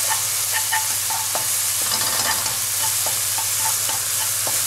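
Sautéed shiitake mushrooms with a spoonful of soy sauce sizzle loudly in a pan while a utensil stirs them, scraping in short repeated strokes over a constant frying hiss and a low hum.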